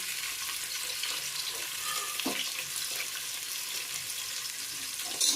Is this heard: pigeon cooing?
no